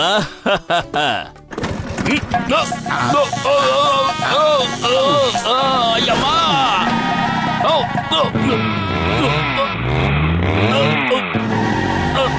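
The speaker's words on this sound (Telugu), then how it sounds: "ఈ బైక్ ని ఏం చేసి తగలంటారు? దీని స్పీడ్ పెరిగిపోతోంది. దీని స్పీడ్ తగ్గించడం నా వల్ల కావడం లేదు." Cartoon bike speeding out of control, its engine whining and revving in rising and falling sweeps alongside skidding tones and music, while a character talks over it for most of the clip.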